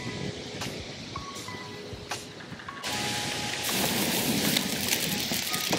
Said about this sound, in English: So it's about to storm out of nowhere.